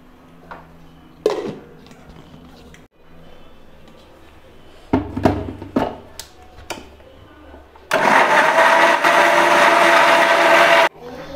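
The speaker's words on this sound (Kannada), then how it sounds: "ಇವಾಗ ಇದಕ್ಕೆ ಸ್ವಲ್ಪ ನೀರನ್ನು ಸೇರಿಸ್ಕೊಂಡು ನುಣ್ಣದಾಗಿ ರುಬ್ಕೊಳ್ಬೇಕು" A kitchen mixer grinding sambar powder with a little water, first a few short clunks and pulses, then a loud steady whirring run of about three seconds that cuts off abruptly.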